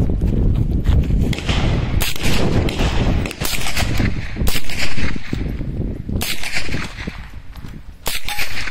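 Repeated gunshots from a Savage gun at an outdoor shooting range, loud sharp cracks in an irregular string over several seconds, some overlapping, with echoing reports and no clear talking.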